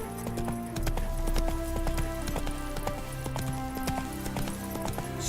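Roach, the horse in The Witcher 3: Wild Hunt, gallops with quick, rhythmic hoofbeats and rattling tack over game music. The pace stays steady and close throughout.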